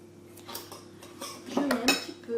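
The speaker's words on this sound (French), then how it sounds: "J'ai pris un ciseau pour aller un peu plus vite parce qu'avec le couteau c'est un peu dur." Scissors snip sun-dried confit tomatoes in a kitchen, several soft, close clicks and metallic clinks spaced unevenly over a couple of seconds, with no talk.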